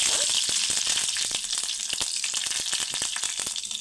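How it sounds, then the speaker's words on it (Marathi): Ginger garlic paste sizzles and fries in hot oil with cumin seeds for a Marathi-style puri bhaji, giving a steady, close, bright crackling hiss with frequent sharp pops and spatters throughout. "आता जिरे देखील छान असे फुलले गेलेत याच्यामध्ये अद्रक लसणाची पेस्ट याच्यामध्ये"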